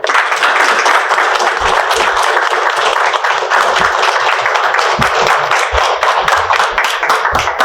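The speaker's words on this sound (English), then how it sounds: "Let's give them a round of applause." Attendees at a city council meeting applaud, a sustained, fairly loud patter of clapping hands with distinct individual claps poking through the steady wash for several seconds.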